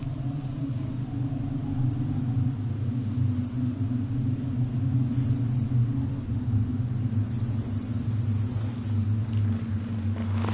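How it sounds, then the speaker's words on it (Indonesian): A storm approaching in an animated telling of the story of Prophet Joseph, a continuous deep rumble that swells and holds steady throughout, loud with faint airy noise above it. "Ada badai datang."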